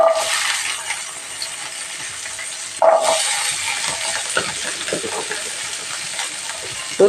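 Small shallots sizzle steadily in hot oil in a pan for Tamil tomato kuzhambu, a constant hiss broken by a clatter as more are added, with a few soft stirring knocks.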